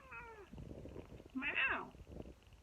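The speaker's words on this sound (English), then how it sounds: "Meow!" A house cat meows from a cat tree, a drawn-out, wavering cry rising in the middle, with a person talking before and after it close by.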